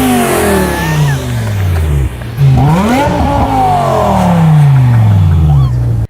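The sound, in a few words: old BMW M car engines revving in recording studio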